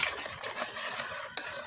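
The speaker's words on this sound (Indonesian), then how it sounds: "Kita aduk." A utensil stirs bakpau cake dough in a mixing bowl, giving a steady soft scraping swish throughout with a brief sharper clink near the end, close and alone with no talking.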